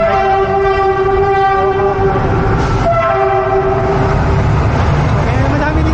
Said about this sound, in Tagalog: may train na dumadaan